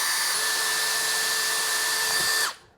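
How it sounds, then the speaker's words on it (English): A power drill with an auger bit bores through a guitar body, a loud steady high whine that holds for over two seconds and then spins down and stops. "So I'll drill right in the middle of that cross,"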